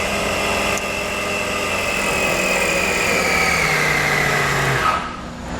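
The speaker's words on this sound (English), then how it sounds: "when we plug this in, we should hear our compressor click on." An Air Lift Load Controller II air compressor, installed on a 2018 GMC, clicks on and runs with a steady, close motor hum for about five seconds, then cuts off.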